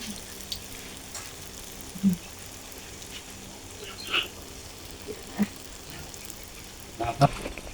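Palm-fruit oil pitha frying in hot oil, a steady soft sizzle running throughout with a few louder pops and bubbling bursts, while a voice speaks at times.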